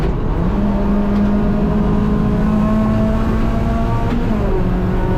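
A race car engine drones loud and steady from inside the car during a race at Gingerman, its pitch holding level and then shifting slightly as the car powers on, with no voices.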